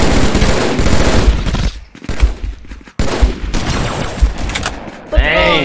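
An M7 rifle in the Contractors VR shooter fires close and loud in dense automatic bursts, nearly continuous with a couple of brief breaks, while players talk underneath.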